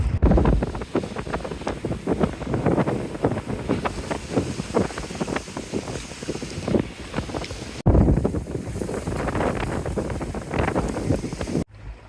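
Steady rush of wind and water as a sailboat moves along near Prevost Island, British Columbia, with gusty buffeting on the microphone throughout and a brief break near the end.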